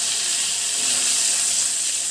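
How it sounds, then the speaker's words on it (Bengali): Garlic fries in hot oil with whole cumin seeds and other whole spices, giving a steady, close sizzling hiss that continues evenly with no talking. "মশলার সাথে রসুনটা ভেজে নেব"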